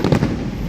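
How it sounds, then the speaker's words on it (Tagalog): Fireworks bursting over Enchanted Kingdom theme park after rain, a dense, rumbling run of booms and crackle in the distance, steady and fairly loud throughout. "pero ayan, merong fireworks"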